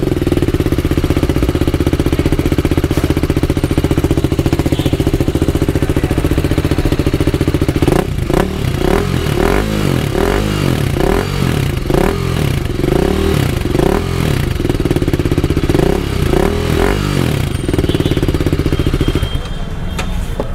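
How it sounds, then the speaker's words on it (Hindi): TVS Apache RR 310 motorcycle fitted with a loud aftermarket exhaust and dB killer, idling steadily at first, then blipped in a rapid series of sharp, close, raspy revs before settling back. "अब ये डीबी किलर के साथ था, और आपने सारे एग्जॉस्ट वगैरह का आवाज़ सुन लिया"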